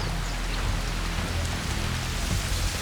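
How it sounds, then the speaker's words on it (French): Steady rain falls on a tropical island in the Philippines, a dense, even wash of drops with a low rumble underneath, continuous and fairly close for the whole stretch with no voices. "Moi, ça me fatigue cette pluie."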